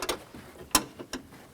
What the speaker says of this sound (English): get the wrench behind this bolt right here